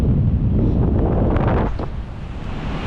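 Wind buffets the microphone while paragliding along the Newhaven cliffs, a loud, steady broadband roar that eases slightly toward the end, with no voices.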